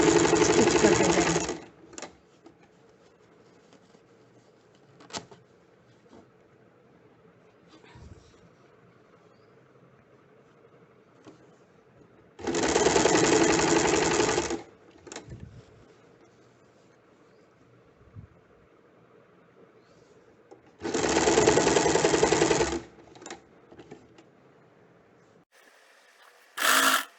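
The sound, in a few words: sewing machine stitching cord piping onto neckline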